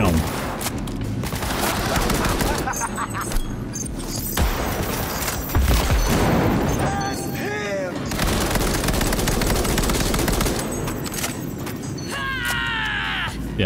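SMG gunfire in Cyberpunk 2077, repeated loud bursts of automatic shots across the stretch, mixed with game effects and sweeping electronic sounds, while a person talks over it.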